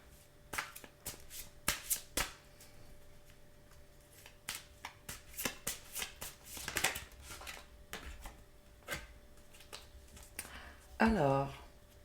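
Tarot cards being shuffled up close, a quick run of crisp riffling flicks and papery snaps that rises and falls across the stretch, with a short voiced sound near the end.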